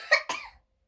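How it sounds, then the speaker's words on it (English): A child coughs twice in quick succession, close and fairly loud, then silence follows. "That's my son coughing."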